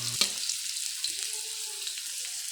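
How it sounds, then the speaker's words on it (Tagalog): Chilies, onions and garlic sauté in a pan with a soft, even hiss of frying and a single light clink of a utensil near the start. "ginigisa ko na nga rin po pala yung mga sili"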